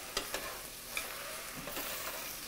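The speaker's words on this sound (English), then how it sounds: "give a quick stir" Raspberries and blueberries stirred in hot sugar on a stovetop give a soft, even bubbling sizzle with a few light scrapes of the spoon over a couple of seconds.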